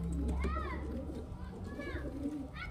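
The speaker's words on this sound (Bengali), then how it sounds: "লালশিরা নর আর এই যে লালশিরা মাদি" Lalshira pigeons, a male and a female, coo in soft rising and falling calls, several in a row, close by over a low steady background hum.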